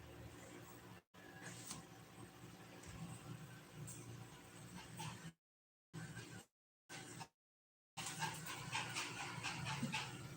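A tired dog pants steadily and close by through the clip, the rhythmic breathing interrupted by a few short silent gaps.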